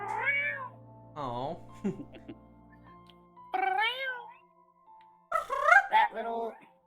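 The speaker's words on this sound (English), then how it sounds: "That little R rolling sound they make before the meow." A cat trills with a rolling purr-like chirp and then meows, several short harmonic calls in bursts, close and fairly clear, with a brief human voice in between.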